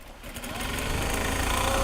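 A sewing machine running continuously as it sews the bottom seam of canvas gyoza bags, a close, dense whirring buzz that builds slightly over a couple of seconds.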